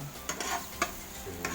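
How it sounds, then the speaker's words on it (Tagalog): Garlic sizzles steadily as it fries in a pan, with a few short scraping stir strokes breaking through the continuous crackle, close and fairly loud with no talking. "Nalagay natin ang bawang. Antayin lang po natin mag golden brown."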